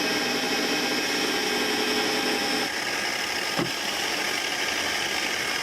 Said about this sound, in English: we're just gonna put a bit of polish on here. And because this wheel's spinning that way, I'm just gonna hold it this way.